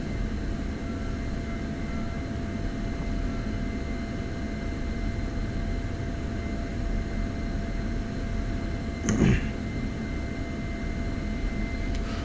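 F-16 jet taxiing toward the runway in the DCS flight simulator, a steady broadband engine drone with a constant whine, briefly interrupted near the end by a short louder transient.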